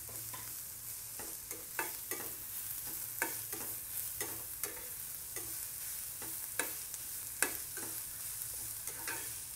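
Onions and curry leaves sauté in a pan for prawn masala. A soft, steady sizzle runs throughout, with repeated sharp scrapes and clicks of stirring at irregular intervals and no talking.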